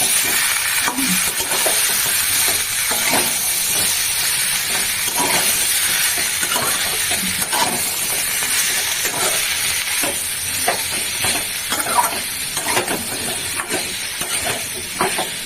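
Spices, ginger and dry chillies are sautéed in a hot pan, giving a dense, steady sizzle and hiss with occasional scraping stirs, close and fairly loud throughout.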